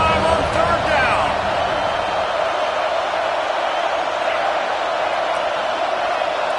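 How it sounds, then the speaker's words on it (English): Stadium crowd roaring steadily throughout an NCAA 26 college football video game at a Buckeye home game on third down, a dense continuous wash of cheering at fairly high level, with game commentary audible over it. "The Buckeye crowd alive on 3rd down."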